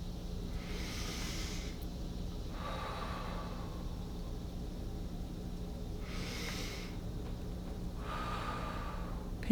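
A person breathes slowly in and out while pinching a muscle during a stretching routine, with four distinct airy breaths, two inhales and two exhales, evenly spaced against a quiet background.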